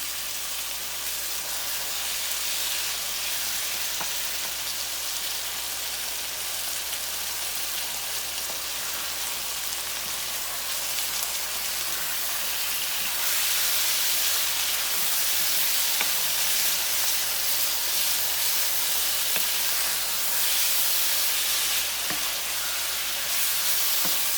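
Steady, crackling sizzle of squash frying in butter in a pan, constant throughout with a slight rise in intensity partway through.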